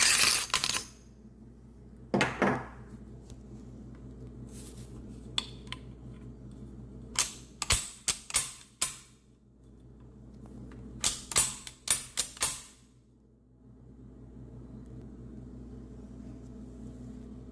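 A Rock Island Armory firearm's action is worked by hand, giving sharp metallic clacks and rattles in scattered clusters, close and distinct, with quiet gaps between.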